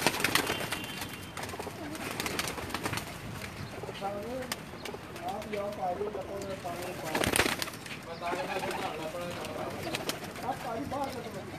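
Pigeons coo repeatedly in soft, rounded bursts, with wing flaps and background chatter from people nearby, on a rooftop pigeon loft in Jeddah, Saudi Arabia.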